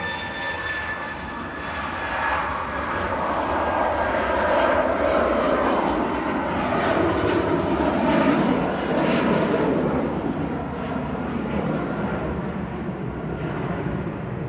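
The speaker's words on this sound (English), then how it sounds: "Departing first, those Eurowings back to Professor Dusseldorf, flight 9345, a little A319 heading off into the" A Eurowings Airbus A319 departs Manchester Airport for Dusseldorf, its jet engines roaring loud and steady with a high whine that swells in the middle and holds to the end.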